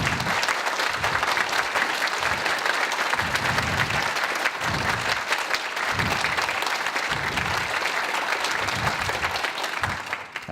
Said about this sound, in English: I'm going to ask the people who are watching to give you a round of applause